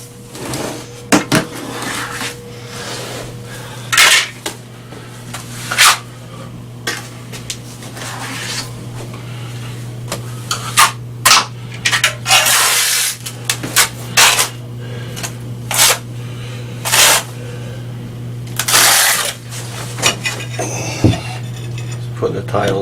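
Pre-cut tiles being set onto mortar over a concrete floor: hard clacks, taps and scraping knocks come in irregular bursts over a steady low hum, close and fairly loud.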